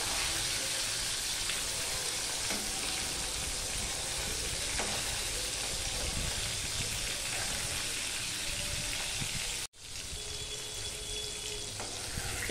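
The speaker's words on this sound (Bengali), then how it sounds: "মাছটা ভাজা হয়ে গেছে, এবার আমি এটা তুলে নিচ্ছি।" Koi fish fries in oil with a continuous, fairly quiet crackling sizzle that carries on steadily, broken once by a brief moment of near silence.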